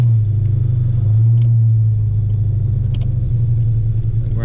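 A 1991 Ford Mustang Foxbody with a freshly adjusted clutch idles and runs with a steady, loud low rumble, with a few faint clicks and clunks over it as the gears are worked through.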